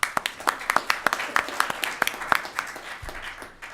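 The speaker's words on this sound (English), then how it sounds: "Give him a round of applause." An audience at a panel event gives sparse, modest applause: a thin, quiet patter of individual claps with uneven rhythm that fades out after a few seconds.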